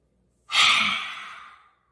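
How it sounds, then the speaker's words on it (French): One slow, deep breath drawn in during a calm breathing exercise: an airy, breathy rush that swells quickly and then fades gradually over about a second, close and alone. "Dernière fois, inspirez."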